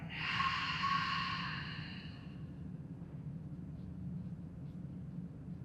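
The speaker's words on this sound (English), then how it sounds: "take a deep breath in and exhale it out" One deep yoga breath during a resting pose, mostly a soft, close, breathy exhale lasting about two seconds, then quiet room tone with no talking.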